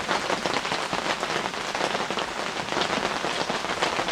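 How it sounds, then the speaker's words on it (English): Steady rain falls on surfaces at a Black Lake campsite, a dense, even patter that holds nearly constant throughout with no voices. "It's still raining."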